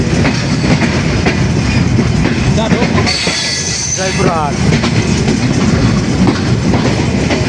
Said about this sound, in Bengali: অবশেষে আমাদের ট্রেনটি জয়পুরহাট প্রবেশ করলো।